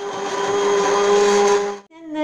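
A blender whirs loudly and steadily as it purees vegetable soup with yogurt, then cuts off abruptly near the end, leaving a brief ringing tone.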